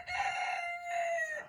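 A rooster crows once on a farm where cattle are kept, a loud, sustained cock-a-doodle-doo lasting about a second and a half, close by and heard alone without talk.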